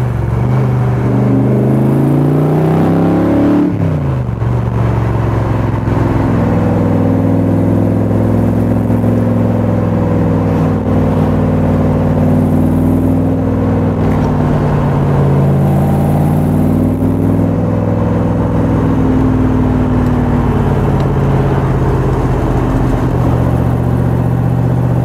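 A 1965 Superformance Cobra with a Tremec 5-speed gearbox is heard from on board while driving, its engine a loud, close, continuous rumble that climbs as it accelerates, drops with a gear change and then surges and eases through the run.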